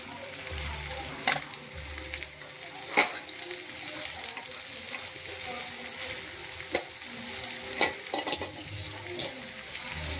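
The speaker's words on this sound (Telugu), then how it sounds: "వేసి కిందకి పైకి బాగా కలపాలి" Thinly cut bottle gourd pieces fry in a hot kadai for a curry. A continuous close sizzle runs throughout, broken by a few sharp spatula clanks as the pieces are turned, with no speech.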